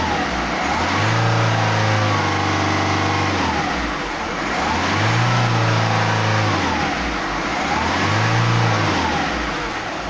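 A Ford Fiesta 1.6 TDCi diesel engine with a turbo pressure fault revs up and drops back in three repeated swells, loud and close, with a steady idle between the revs.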